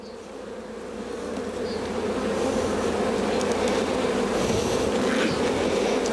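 A strong honeybee colony hums steadily through an open hive during a spring inspection, a dense, continuous buzz that swells slightly and holds close and loud throughout.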